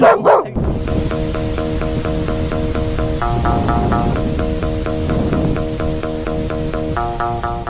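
A dog attacking near an evening paragliding takeoff at Millau barks rapidly and repeatedly at close range, loud and insistent over a steady noisy background.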